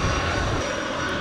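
A jet airliner's engines roar with thrust at the airport in Montego Bay, Jamaica, as a loud, steady, broadband rumble that fills the air without a break.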